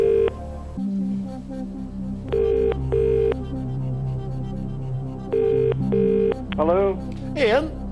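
Telephone number being dialed, a series of distinct tonal keypad beeps in short bursts with pauses between them, followed by rising warbling ring tones near the end, over a low steady hum.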